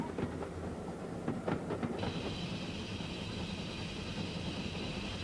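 A steam locomotive on the West Highland line rumbles steadily up close, with a run of rhythmic rail clatter early on giving way to a sustained hiss and grinding roar.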